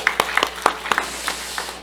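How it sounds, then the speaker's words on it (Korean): A church congregation gives a short round of encouraging clapping during a sermon, a handful of separate sharp claps spaced irregularly over a couple of seconds in a reverberant hall, fading out. "우리 방송실도 격려의 박수 한번 하겠습니다."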